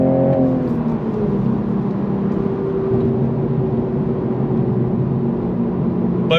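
Inside a 2026 Toyota Mk5 Supra with a 6-speed manual, the engine hums and rises as the car drives and accelerates, a steady close cabin drone without talk.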